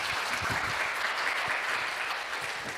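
An audience gives warm applause after a lecture, a continuous patter of many hands clapping at moderate volume for a few seconds.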